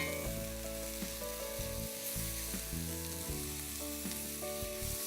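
A chard and vegetable mixture sizzling in a hot frying pan, a loud, dense, continuous fry and crackle heard close up with no talking.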